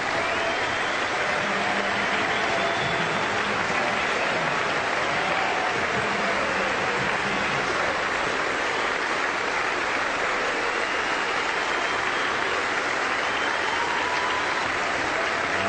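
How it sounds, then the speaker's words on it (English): A Sydney Cricket Ground crowd gives a batsman a long standing ovation of continuous, thick applause that carries on evenly throughout, with faint cheers woven in. "Getting a tremendous ovation from the crowd."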